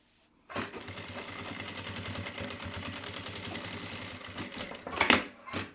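Sewing machine stitching fabric and lining together for a cloth wall panel, a fast, even mechanical chatter running steadily for several seconds close by, ending in a few louder clunks.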